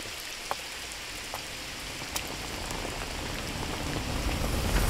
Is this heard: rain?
yes